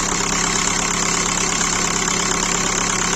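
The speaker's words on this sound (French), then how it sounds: "Bon, déjà, le régime moteur, il a l'air bien" A Volkswagen Golf 4 TDI diesel engine idles steadily after an injector replacement, a close, continuous, even rumble with a faint knocking texture and no pauses.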